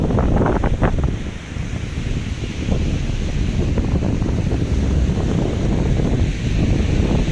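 Strong sea waves at Lagonoy, a steady heavy roar of surf with low rumbling churn and wind buffeting the microphone throughout, loud and continuous without letup.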